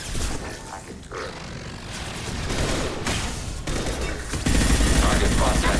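Sustained automatic gunfire from a Mass Effect 2 firefight aimed at a turret: dense, continuous bursts of rattling shots with heavy impacts and a louder surge near the end, plus grunts and voices underneath.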